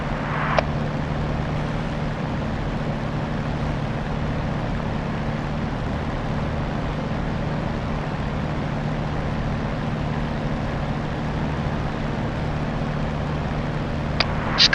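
A Spitfire's piston engine rumbles steadily while taxiing in a flight simulation game, a constant droning hum held throughout with a couple of brief faint clicks near the start and end.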